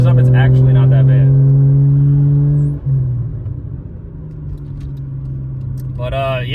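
Toyota JZX100 with a GTE swap and Greddy intercooler driving, a steady low engine drone from inside the car that dips briefly, with people talking over it.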